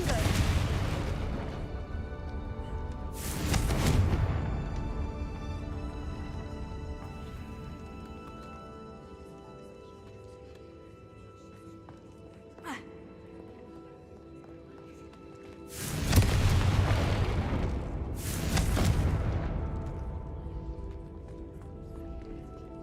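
Loud blasting bursts from the Confringo spell in Hogwarts Legacy, three heavy booms spaced apart with a quieter rumbling game ambience between them.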